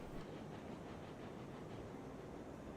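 Locomotive running in Railroads Online, a steady low rumble with faint rhythmic clatter from the rails, continuous and fairly quiet throughout.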